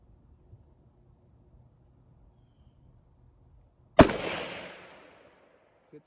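A single sharp rifle shot from a Riley Defense AK-47 fired at a target outdoors rings out loud and close after a quiet lull, followed by a long trailing echo that fades over about a second.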